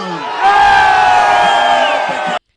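A crowd of supporters marching in a city cheers and chants loudly, the voices swelling together into a sustained roar that cuts off abruptly after about two seconds.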